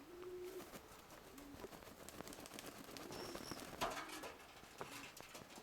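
Soft coos from young pigeons sound several times at moderate distance over a faint, steady outdoor background with light patter.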